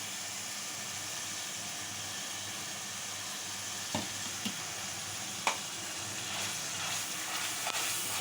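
Chopped green chillies frying in hot oil for a Godavari-style fish curry give a steady, close hiss and sizzle, broken by a few sharp clicks and clinks of a spoon or pan, with no talking.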